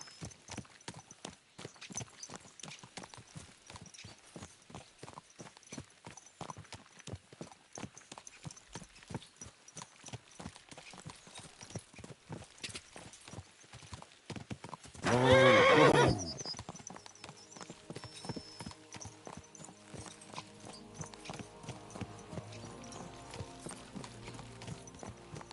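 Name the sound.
horses galloping and neighing in video game Kingdom Come Deliverance 2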